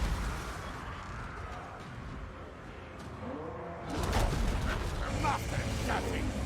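Artillery in Total War: Warhammer 2 pounding a Chaos Giant on the battlefield: a rumbling din of distant booms that swells into heavier, sharper bursts partway through, amid dense battle noise.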